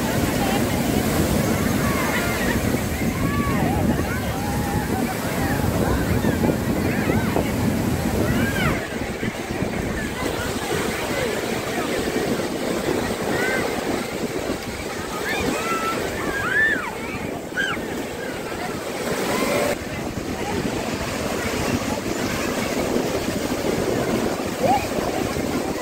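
Ocean surf at Marina Beach rolls and crashes continuously, close and loud, with wind buffeting the microphone throughout.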